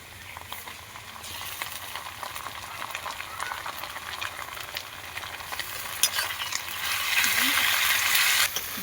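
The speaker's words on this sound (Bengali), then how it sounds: "এবার আদা রসুনের পেস্ট দিয়ে দেবো" Ginger garlic paste frying in oil for a khichuri masala crackles and hisses up close, with stirring scrapes throughout and the sizzle growing louder toward the end.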